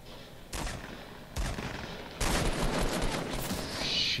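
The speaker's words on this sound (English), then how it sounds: "Somebody just shot at me." Bursts of gunfire in the Fortnite 100-player battle royale, three sharp volleys starting about a second apart and then a longer sustained stretch of shots, loud and close with no talking over them.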